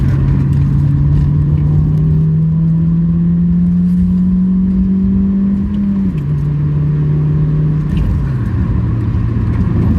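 A Honda Fit GE8 with its 102-horsepower engine accelerates, a loud close engine drone rising steadily in pitch before dropping at two gear shifts, with no talk.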